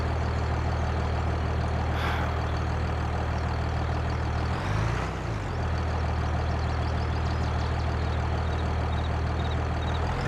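A John Deere tractor engine in Farming Simulator 22 idles with a steady, loud low rumble, a brief dip and swell in the middle, and no voices over it.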